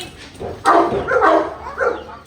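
A dog barks and yips a few times close by, short excited bursts with a whimpering edge.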